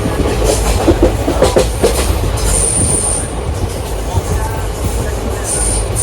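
A train rolls past close by, wheels rumbling and clacking on the rails with intermittent high metallic squeals.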